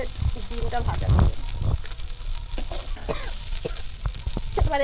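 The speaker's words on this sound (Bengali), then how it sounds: "এখানে মাছের ডিমটা ভাজা করব।" Fish roe fries in hot oil in a pan, giving a steady close sizzle with crackling bursts; kitchen clatter and faint background voices come and go over it.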